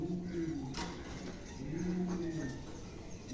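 Soft, low pigeon coos rise and fall twice in a quiet space, with faint background noise.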